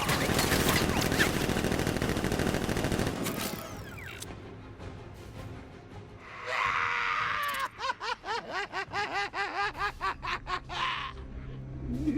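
Game gunfire from guards in Batman: Arkham Knight, a dense rattle of shots building into rapid pulsing bursts, mixed with shrill cries and laughter-like vocal sounds, loud and continuous.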